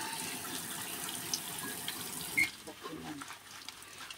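Water pours and splashes steadily from a tap while a dog is being bathed, with people talking over it and a brief sharp clink near the end.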